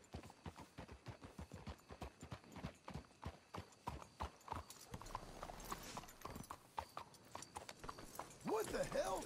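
Steady clip-clop of horse hooves walking at a relaxed pace in Red Dead Redemption 2, fairly close, with a brief whinny near the end and some quiet background ambience.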